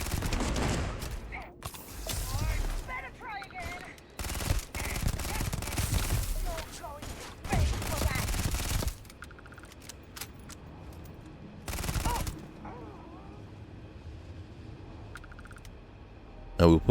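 Gunfire in the sci-fi game Starfield: loud bursts of automatic shots in clusters with gaps between, interspersed with clicks and fainter distant shots, with some voices under the shooting.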